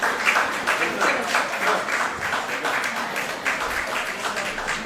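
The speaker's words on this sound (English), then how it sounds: "Please give him a big round of applause." A room full of people claps in a lively burst of applause at a UCMAS award and graduation ceremony, fairly close, with the clapping rising and falling in waves.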